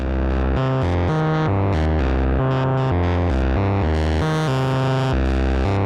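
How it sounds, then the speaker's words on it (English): A dense, distorted synth line from a Planar 2 Eurorack module, run through reverb, distortion and a sequenced modulated filter, with washy reverb, stepping through a pulsing bass pattern, loud and continuous. "it's going first through some reverb, and then distortion, and then a modulated filter"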